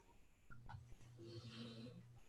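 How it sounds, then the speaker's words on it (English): A pet dog snoring while she relaxes, producing low, rough, steady breathing tones that rise and fall close by, with a raspy wheezy edge over about two seconds. "Can hear my dog snoring away here."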